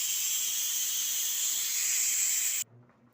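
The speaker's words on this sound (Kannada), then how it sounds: "4 ವಿಷಿಲ್ ಕೂಗಿಸ್ಕೊಳ್ಳೋಣ." A pressure cooker cooking horse gram with drumstick leaves, tomato and salt lets off a loud, steady high-pitched steam whistle close by, which stops abruptly, leaving a faint low hum.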